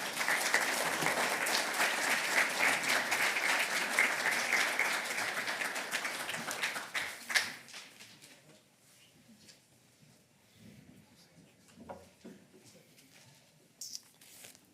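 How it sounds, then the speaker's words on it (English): Sustained audience applause at a legislative preview event, dense and steady for about seven seconds, then fading out to scattered claps and quiet room noise. "Cue applause."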